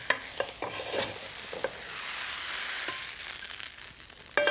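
Spinach cooks in a skillet on the stove, giving a steady hiss of sizzling and stirring. A few soft utensil knocks come near the start and a sharper clatter at the end, with no talking.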